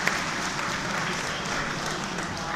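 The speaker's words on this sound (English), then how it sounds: "Can I have a round of applause for Gonzalo Ferreira?" Audience applause for the winner at a Pokémon Trading Card Game regional tournament in Malmö, a full, even round of clapping from a crowd that continues steadily throughout.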